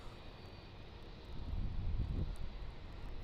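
A Cathay Pacific Airbus A350 jet taking off at Melbourne Airport: a distant low engine roar that swells partway through and then holds as a steady rumble outdoors, with no talk.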